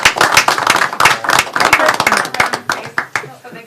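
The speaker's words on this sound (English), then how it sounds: "So give them a round of applause." People at a city council meeting clap for a group of Eagle Scouts, a room of distinct, sharp hand claps that grows sparse toward the end, with talk mixed in.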